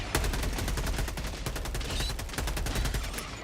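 Gunfire in the game Helldivers 2: rapid automatic bursts of sharp shots in quick succession, loud and close, with brief pauses between volleys.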